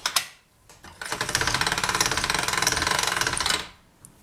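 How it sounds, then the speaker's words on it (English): A hand-cranked pasta machine rolls a polymer clay skinner blend on its thickest setting, giving a loud, continuous rhythmic clatter for a few seconds after some brief handling knocks, then stopping. "we want to run our skinner blend from this end to this end through a pasta machine on our thickest setting"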